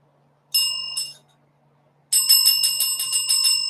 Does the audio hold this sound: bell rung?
yes